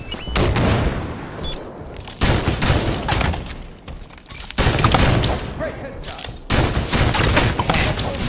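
Gunfire in the video game Halo 5, loud automatic bursts arriving in several separate waves with brief near-silent gaps between them, under occasional game voice callouts.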